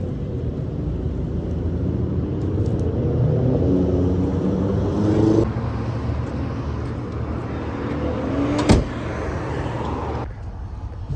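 A 1963 Chrysler cruises along the road out of Billings, Montana, its engine and tyre roar forming a steady, loud rumble throughout, with a brief sharp bump near the end.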